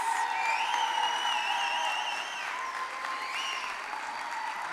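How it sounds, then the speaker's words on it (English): Sustained applause from a large audience at a university commencement ceremony, steady throughout, with a faint musical tone running underneath. "let's hear a big round of applause for your families, your supporters, your cheerleaders."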